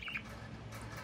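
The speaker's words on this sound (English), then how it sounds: "Oh, my cute baby bird." A pet budgie lets out a quick bright chirp, then a fainter second call shortly after, close by and over a low background hum.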